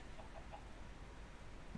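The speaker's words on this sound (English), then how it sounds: "Chicken." A chicken in the modded video game Minecraft (Sky Factory 3) gives a few quick, faint clucks in a row, alone over a low steady background.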